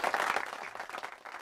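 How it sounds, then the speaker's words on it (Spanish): Digital applause sound effect on a Spanish-language morning radio talk show, a brief faint burst of crowd clapping that thins out quickly. "Aplauso digital ahí."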